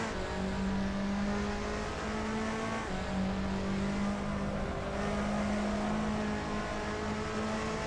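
Heard from inside, a Fiat Tipo Competizione race car accelerates on the Calabogie circuit, its engine droning steadily with pitch rising and falling as it revs through the gears.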